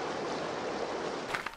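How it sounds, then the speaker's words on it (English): A waterfall beside a Glacier National Park trail gives a steady, close rush of falling water that fills the whole moment, with a few faint knocks near the end. "We're headed right through the waterfall"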